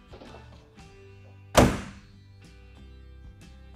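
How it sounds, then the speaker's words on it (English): A GMC Sierra 1500 short-bed tailgate fitted with a RetraxPRO XR tonneau cover shuts with one loud, solid metallic thunk, with faint clicks and handling noises before and after. "you can still fully operate your tailgate with the cover either open or closed"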